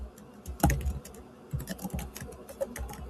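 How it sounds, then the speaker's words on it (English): Someone types quickly on a loud computer keyboard nearby, producing irregular clusters of sharp clicks with a few heavier thumps, like keys bottoming out or the space bar. "Sorry if it's really loud when I'm typing."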